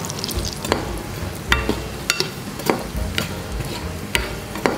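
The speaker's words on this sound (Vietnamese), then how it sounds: "chiên cái này sôi vừa vừa vậy thôi, không cần mở lửa quá lớn nha mấy bạn" Pork fat cracklings frying in a pan over moderate heat, a steady sizzle broken by sharp pops and the scrape of stirring, close and without talk.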